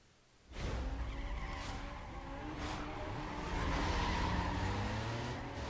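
A car brakes hard and skids with squealing tires in the racing video game Need for Speed Most Wanted. After a quiet start, the engine and tire squeal swell in and stay loud and steady for several seconds, with no talking.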